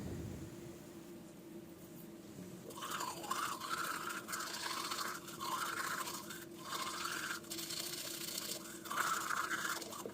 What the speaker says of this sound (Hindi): मैं डायरेक्ट वॉशरूम में आ गई हूँ दांत ब्रश करने के लिए